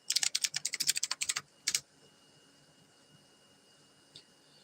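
Rapid typing on a computer keyboard: a quick burst of about a dozen crisp, close keystrokes, one more tap a moment later, then near silence with a faint click near the end.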